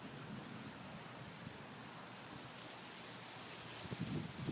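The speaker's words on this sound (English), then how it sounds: "But it's raining so hard. You guys probably hear the rain" Heavy rain pours down steadily during a thunderstorm with tornado sirens, a dense wash of drops on surfaces that grows a little louder and heavier toward the end, with no voices.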